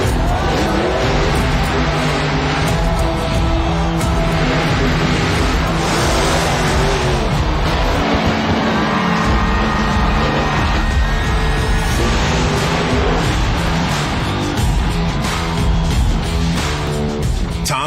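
Tom Meents' monster truck roars loud and steady with revving engine surges and tire noise, a dense wall of motor sound filling the whole stretch with no talk over it.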